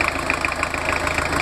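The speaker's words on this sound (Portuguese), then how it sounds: "Turbo diesel da Volkswagen." Steady idle of a Volkswagen Kombi 1982 turbo diesel engine, close and constant, with an even throbbing pulse and faint knocking character, no voices over it.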